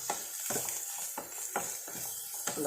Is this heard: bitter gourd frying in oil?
yes